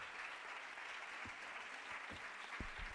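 A crowd applauds the jury at the Princess of Girona Foundation Scientific Research Award proclamation, a steady, dense wash of clapping heard from a distance with a few soft thumps underneath.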